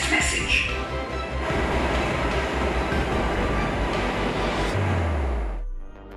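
Driverless automated Delhi Metro train pulling into a station platform, a steady loud rumble of wheels and carriages throughout that fades as the train slows and settles near the end.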